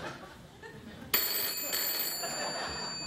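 A telephone bell starts ringing abruptly and keeps going, bright and fairly close, during a late-night talk show scene, with faint voices and laughter around it.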